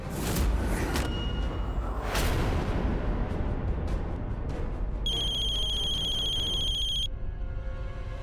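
A telephone rings in a television drama scene, its electronic ringtone trilling steadily for about two seconds after some dramatic whooshing music hits, then stopping.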